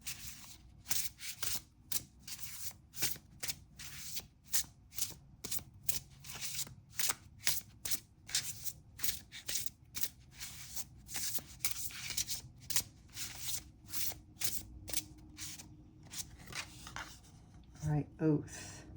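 Tarot cards are shuffled and drawn in quick bursts of crisp riffling and flicking, close and fairly quiet, repeating irregularly for most of the stretch, with a brief voice near the end.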